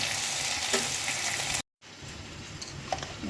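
Two small tomatoes sautéing in a pan, a loud close hiss of frying with faint stirring, cut by a brief silent gap midway before the sizzle resumes.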